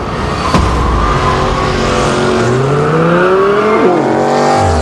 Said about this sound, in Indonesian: Dia naik mobil kencang adik-adik.